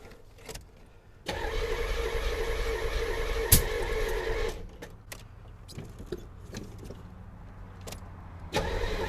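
The key is turned on a non-running C4 Corvette bought from Copart. Keys rattle softly, then the starter cranks in a sustained burst of a few seconds, followed by scattered clicks and a second short burst.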